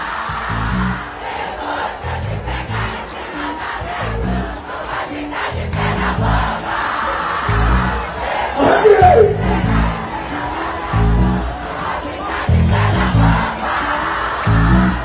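A dense carnival crowd at the 2024 Zé Pereira celebration in Timon cheers and shouts continuously over pounding, rhythmic drum-heavy music, with the roar swelling slightly near the end.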